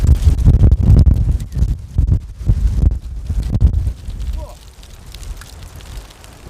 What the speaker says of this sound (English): I need goggles with this wind here. It's just blowing dirt into my eyeballs.